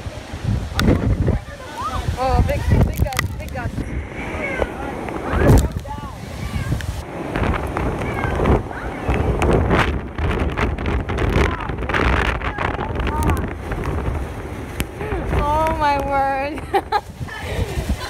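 Strong, roaring hurricane wind gusts from Hurricane Maria buffet the microphone continuously, with shouting voices heard over the storm noise throughout.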